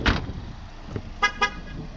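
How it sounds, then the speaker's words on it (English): A 2018 Ford Mustang EcoBoost gives a short beep after the driver leaves, then after a pause two quick electronic chirps sound close by, with a low background hum. "that is beeping to let me know that I've left the car"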